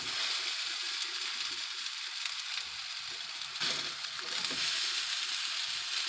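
Salisbury steak patties frying in a skillet, giving a steady, full sizzle that holds for several seconds, with a brief louder crackle partway through.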